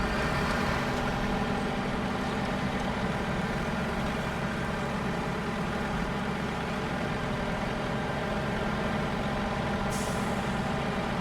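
Heavy rumbling diesel engine of an International Paystar truck in the Snowrunner video game, a steady loud drone throughout, with a hiss of air brakes near the end.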